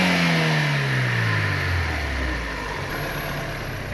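A Daewoo Nexia petrol engine revs hard and close, its loud roar falling in pitch as the revs drop away toward idle.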